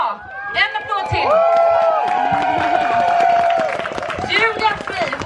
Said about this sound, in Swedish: En applåd till!